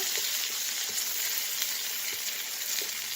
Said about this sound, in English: I will separate the vegetables from the oil.